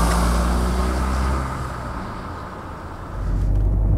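A Fiat 500C TwinAir, a 2012 convertible with a two-cylinder engine, runs with a loud, steady low rumble that dips slightly midway before swelling again, with no voices.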